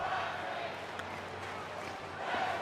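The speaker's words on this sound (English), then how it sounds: "Crowd here tonight is chanting Waxy" An arena crowd in the wrestling game WWE 2K25 chants and roars as a steady, dense wash of many voices throughout, with no single speaker standing out.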